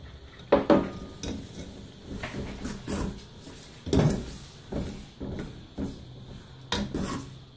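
Nihari masala stirred in a pot over heat, with repeated scraping strokes and clattering knocks of a spoon against the pot over a faint sizzle.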